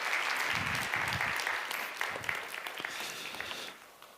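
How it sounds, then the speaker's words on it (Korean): A church youth service congregation gives a round of applause, many hands clapping at moderate distance, with scattered louder claps and the sound tapering off near the end. "네, 다시 한번 뜨거운 박수 부탁드립니다."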